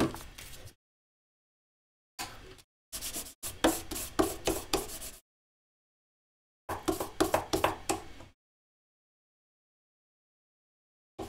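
Hand sanding with 80 grit sandpaper, heard as bursts of fast, rasping back-and-forth strokes, close and steady, separated by silent pauses, with no voices.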